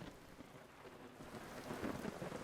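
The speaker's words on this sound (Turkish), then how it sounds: "Sadece yağmur sesi var." Steady rain in the survival video game Vintage Story, a dense, even wash of falling drops with a soft low rumble underneath, with no voices.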